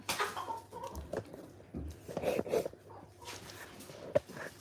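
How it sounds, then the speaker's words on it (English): Backyard chickens, including white Brahmas, cluck and murmur softly behind a curtain in a quiet morning coop, with a brief sharper call near the end. "Behind the curtain is a bunch of chickens."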